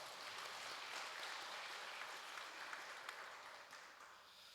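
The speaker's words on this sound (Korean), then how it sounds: "이 나라 이 민족을 지켜주신 하나님께 영광의 박수를 한번 올리겠습니다." A church congregation applauding during a Sunday morning worship service, steady, broad clapping that holds at a moderate level without pause, heard from a little distance with no talk over it.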